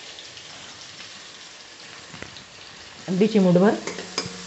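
Onion frying in a pan with a pinch of salt added, a steady soft sizzle throughout, interrupted by a short spoken phrase.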